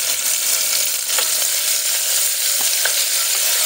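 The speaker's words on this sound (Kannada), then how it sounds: "ಇದನ್ನು ಚೆನ್ನಾಗಿ ನಾವು ಫ್ರೈ ಮಾಡ್ಕೋಬೇಕು।" Two large chopped onions fry in oil in a pan for avarekai gravy, giving a steady, loud, close sizzle throughout with a few faint stirring clicks.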